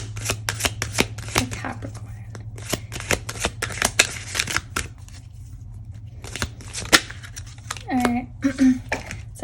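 Oracle cards riffled and shuffled by hand for an advice reading: rapid papery bursts and flicks in irregular clusters, close and crisp, with a brief voice murmur near the end.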